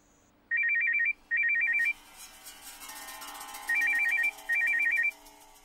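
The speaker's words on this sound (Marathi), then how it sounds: "कोणाचा फोन आहे गो?" A telephone rings in two pairs of loud electronic trilling bursts, separated by a short pause, indoors in a household setting.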